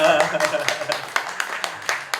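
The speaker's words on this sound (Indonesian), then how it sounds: "Aduh, tepuk tangan dulu dong" A small studio group at a podcast with university students claps in a quick, uneven rhythm of distinct hand claps, close and moderately loud, with a voice briefly heard.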